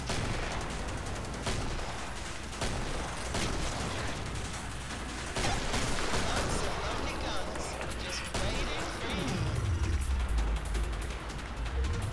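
Killing Floor hand cannon gunfire, with sharp shots popping irregularly amid dense game noise and heavy metal music, a few shots louder and closer than others.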